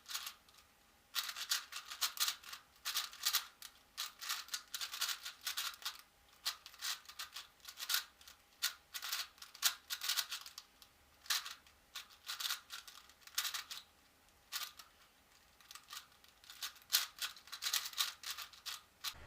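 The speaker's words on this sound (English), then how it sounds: "if you'll notice the way I was turning the cube, it was very choppy" A 4x4 speed cube being turned rapidly during a solve, giving dense bursts of quick plastic clicks and rasps in choppy, uneven runs, close up with no talking.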